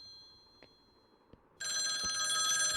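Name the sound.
phone ringing in the video game Night Knocks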